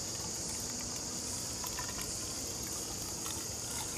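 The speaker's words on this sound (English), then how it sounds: "And the water draining out there." Water is poured into a geocache puzzle container and drains back out, giving a continuous soft, bubbling trickle with a faint hiss, heard close and alone.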